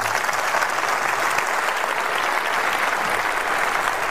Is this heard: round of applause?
yes